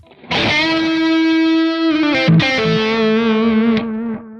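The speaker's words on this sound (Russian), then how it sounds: "дилей не перекрывает бенд, даже если я миксы сделаю побольше" A single electric guitar note rings out, then bends upward and sustains, trailed by soft repeating echoes from a JOYO R-10 analog bucket-brigade delay pedal; no talking.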